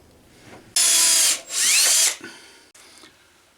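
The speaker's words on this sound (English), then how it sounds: "Then you drill through that flat spot to create the hole you need" A small high-pitched drill whines in two short bursts, spinning up and winding down with a brief pause between, followed by faint handling clicks.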